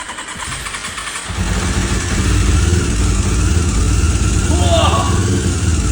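A salvaged Honda CB400 motorcycle with a rusty tank and leaking carburetor cranks and catches, settling into a loud, steady close-up idle that rumbles on without pause after a brief quieter lead-in.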